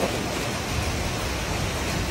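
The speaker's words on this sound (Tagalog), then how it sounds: "Maulan na umaga, mga ito." Steady rain on a rainy morning, a dense even hiss with soft low rumble, continuous and fairly close throughout, with no voices.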